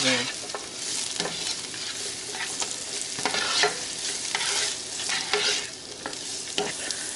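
Onion frying in a hot pan makes a dense, constant sizzle with scattered crackles and stirring clatter, close and fairly loud throughout, with no voices.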